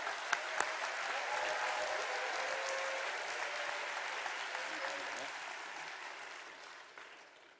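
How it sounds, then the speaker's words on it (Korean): Church congregation at a Sunday evening worship service bursting into sustained applause, steady clapping from many hands that slowly fades toward the end, with a few sharper claps at the start. "우리 큰 박수로 또 환호로 모시겠습니다."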